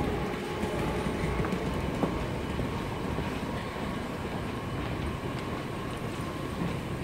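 A Washington Metro blue line train arriving at a station, a steady broadband rumble with faint clicks and rail noise holding at a constant level throughout, with no talking.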